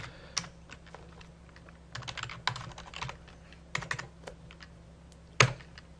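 Keys on a computer keyboard are tapped to enter a user ID in short uneven clusters of close, crisp clicks, with one sharper keystroke near the end over a faint steady hum.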